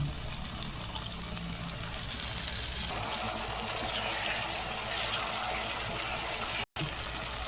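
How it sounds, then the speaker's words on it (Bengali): Tamarind soaking water, with the tamarind pulp still in it, poured into a pan of tomato dal spices; a steady watery trickle runs throughout, broken by a brief drop-out near the end. "তেঁতুল ভেজানোর জল তেঁতুল শুদ্ধই দিয়ে দিলাম।"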